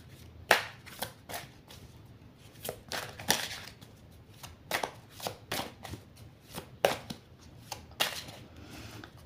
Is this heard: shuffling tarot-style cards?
yes